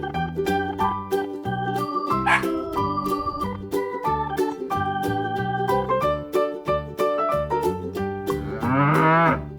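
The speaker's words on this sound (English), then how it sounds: "Cow." A farm cow lets out a drawn-out moo near the end, set against a busy, continuous musical backing that runs throughout.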